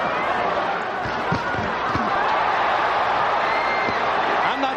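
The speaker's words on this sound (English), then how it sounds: "Crowd trying to chant Holyfield." Boxing arena crowd at the Lewis vs Holyfield rematch trying to chant Holyfield's name: a steady, dense roar of many voices with scattered thuds, with no clear rhythm of a chant.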